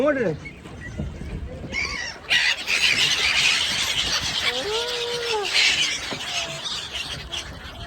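Several migratory birds squeal and call over the water at the Yamuna ghat in Delhi, rising, looping cries over a steady outdoor hiss, with some voices speaking nearby.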